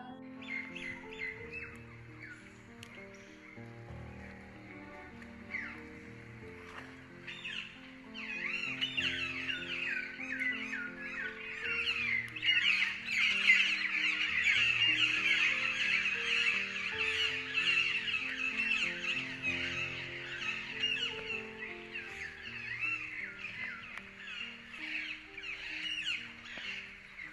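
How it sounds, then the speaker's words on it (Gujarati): Many birds call together at Malsar in Gujarat, a dense, steady chorus of chirps and squawks. It swells louder midway and carries on throughout, with no speech. "અહીંયાના પક્ષીઓનો કલરવ તો સાંભળો"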